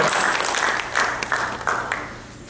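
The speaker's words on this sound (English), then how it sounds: "Can we give a big round of applause first to Hamara Khuda?" Audience at a church preaching gathering gives a short round of applause, with fairly close clapping in uneven bursts that thins and fades toward the end.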